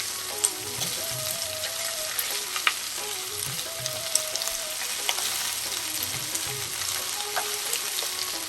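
Two medium onions, thinly sliced, fry in a pan with a steady moderate sizzle and occasional clinks and stirring scrapes, with no talk over them.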